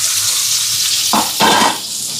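Onion, green chilli, mustard seeds, fennel and cumin sautéing in hot oil in a pan, a loud continuous sizzle swelling in two bursts as the mixture is stirred.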